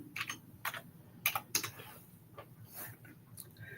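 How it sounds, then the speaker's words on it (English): Typing an email on a computer keyboard, a light, uneven patter of key clicks in short bursts with pauses, close and fairly quiet, no voices. "I'm just typing my email."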